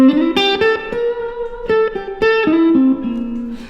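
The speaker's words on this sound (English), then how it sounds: "Let's go max on the reverb." Electric guitar on the neck pickup through a Laney Loudpedal with reverb turned to maximum, a short loud phrase of sustained singing notes and slides that ring out with a lingering tail, played alone.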